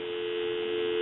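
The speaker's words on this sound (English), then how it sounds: "Some dial tone." A rotary desk telephone's dial tone hums steadily at an even level, unchanging and alone with no other sounds.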